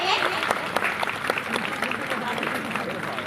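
Sustained applause from a school assembly crowd at St. Xavier's welcoming the principal, a priest, as dense steady clapping runs throughout with voices mixed in.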